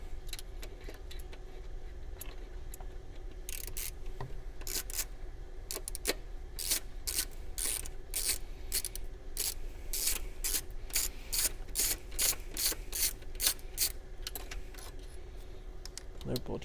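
Quick ratchet clicks in repeated bursts as bolts are backed out of the valve cover on a 2013 VW Jetta 2.5L, close and crisp, with a steady low hum underneath.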